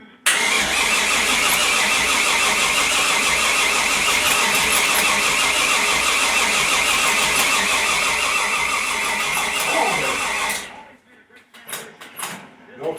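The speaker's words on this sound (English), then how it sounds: "Gonna crank a little bit, ain't got no fuel in the carburetor yet." Big-block 396 V8 in a 1929 Model A hot rod cranking over with no fuel in the carburetor, a loud, rapid rhythmic churn of the starter for about ten seconds before it cuts off into quiet with faint clatter.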